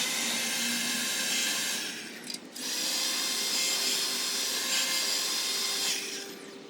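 A Ryobi blower attachment runs with a steady airy roar, briefly dipping and cutting out near the middle before resuming at full strength and easing off at the end.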